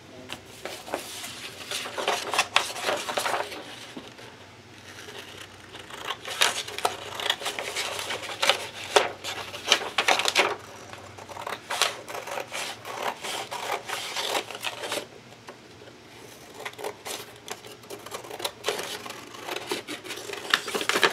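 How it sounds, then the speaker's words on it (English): Large scissors cut through a journal cover in a run of close, crisp snips and crunches that come in uneven bursts with brief pauses between. "So, I'm going to cut the rest of this away. Get some of my larger scissors."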